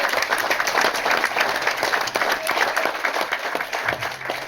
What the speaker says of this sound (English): Let me give them all some applause